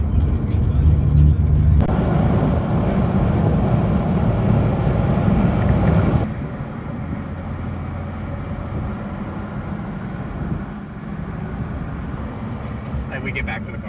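A BMW E46 wagon engine roars loudly under hard acceleration with a strong, sustained drone, then drops to a lower steady rumble partway through, with voices faintly mixed in.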